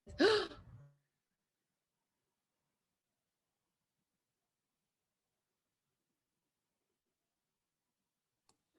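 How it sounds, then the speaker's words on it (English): A woman on an online group call gives one short, sharp, breathy gasp right at the start, then near silence with a faint click at the end. "That gasp said everything."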